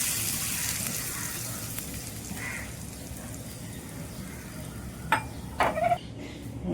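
Hot tempering is poured over raw mango chutney, giving a soft, rain-like hiss and sizzle that stays faint and close. A few sharper clinks and bursts come near the end.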